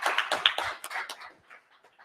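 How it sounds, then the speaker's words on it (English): Audience applause for a panel at a health equity event: a burst of clapping that fades out over about a second and a half, with no talking. "another round of applause"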